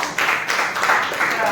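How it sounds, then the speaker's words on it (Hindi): An audience at a church retreat in Ghatkopar claps for Michael, a brief burst of dense, steady applause close by with a voice talking over it. "माइकल के ताली बजाओ"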